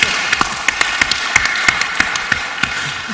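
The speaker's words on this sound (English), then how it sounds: "clap it up for him again" Sparse, scattered clapping from an audience at an event on student pathways, a few distinct hand claps standing out over a steady room background.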